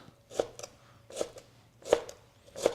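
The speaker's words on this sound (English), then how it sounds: "and then you'll dice it." A kitchen knife dices tomato strips lined up crossways on a cutting board, making four crisp, evenly spaced chops that sound close and clear.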